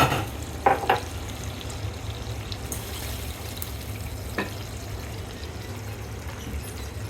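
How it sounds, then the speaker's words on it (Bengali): River prawn curry sizzling in a pan as liquid is poured in, starting with a short splashy burst, then settling into a steady low bubbling hiss with an occasional knock, nearby and with no speech. "এখন আমি রান্না করার জন্য ঝোল দিয়ে দিব"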